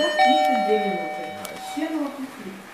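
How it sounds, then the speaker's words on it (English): A single strike of a train bell on a new Shanghai Mitsubishi electric commuter train at Kokoshkino station rings out and fades slowly while a person talks over it. "Ring that bell."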